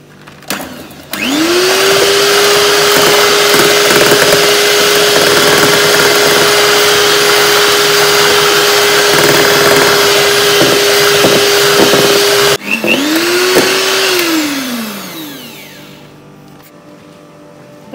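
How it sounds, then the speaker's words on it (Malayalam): Electric beater whirring steadily and loudly while mixing flour into pandan cake batter. It switches off briefly, restarts, then winds down to silence, with no talking. "ഞാൻ ഈ ബീറ്റർ വെച്ച് തന്നെയാണ് കേട്ടോ മിക്സ് ചെയ്തെടുക്കുന്നത്"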